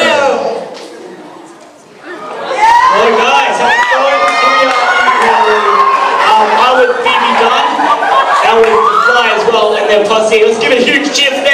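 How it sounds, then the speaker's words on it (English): Live audience at a comedy-style show, laughing and cheering loudly after a brief lull, a sustained crowd roar with chatter mixed in and no pause. "Let's give a huge cheer for them"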